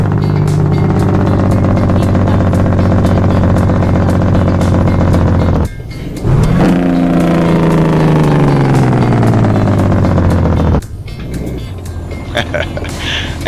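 A modded truck in a driving video game sounds out with steady loud engine drone, then a sharp break into a descending, staccato jake-brake rumble that slides down in pitch for several seconds before the engine returns to a steady hum.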